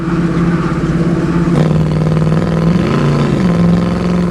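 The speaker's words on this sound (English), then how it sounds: "The exhaust note is a really good exhaust note." A 1967 Chevrolet Camaro SS convertible with a fuel-injected 350 V8 and automatic transmission rumbles steadily, a loud, close, low exhaust drone that dips slightly in pitch as the revs shift.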